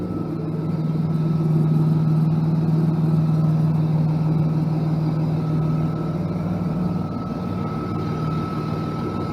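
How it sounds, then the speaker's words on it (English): A straight-piped 1995 BMW M3 engine idles smoothly, giving a steady, even low hum with a faint higher whine, constant and close throughout. "You can hear how loud it is, the exhaust, with it being straight piped."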